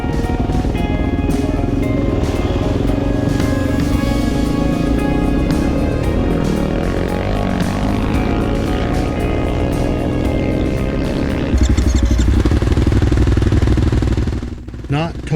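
A Beta 500 dirt bike ridden on a desert race course with whoops near San Felipe drones loudly throughout, the engine note rising and falling with throttle changes and a harsher, louder stretch near the end before it fades.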